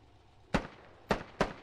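Three sharp gunshots ring out in a Squad military shooter match, one alone and then two close together, loud and near with short echoing tails, no voices over them.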